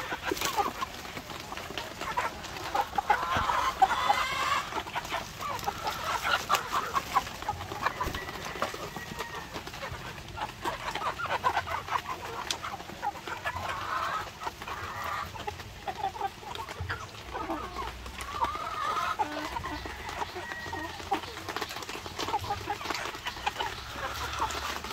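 A flock of Aseel chickens clucks steadily while pecking at coconut pulp, with soft overlapping calls and rustling running continuously at close range on a farm.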